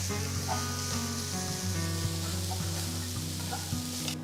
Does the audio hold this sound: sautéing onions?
yes